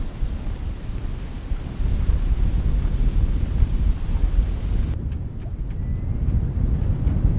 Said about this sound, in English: You hear it on the microphone as the wind comes in.